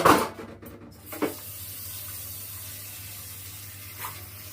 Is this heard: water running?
yes